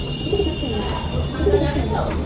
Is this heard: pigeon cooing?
yes